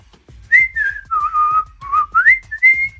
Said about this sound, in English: My whistling is so inconsistent.